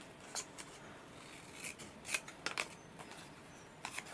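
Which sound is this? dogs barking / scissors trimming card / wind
scissors trimming card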